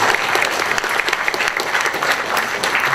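Audience applause fills a community musician discussion panel, a steady wash of many hands clapping at moderate loudness for the full stretch, with no talking over it.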